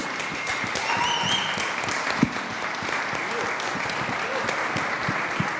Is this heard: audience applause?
yes